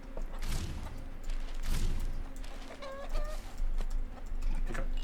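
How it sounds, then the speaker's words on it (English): Chickens in the video game RuneScape: Dragonwilds cluck in short repeated bursts at close range, scattered over a steady low background hum, with a brief higher squawk partway through. "Aggressive chickens all over the place."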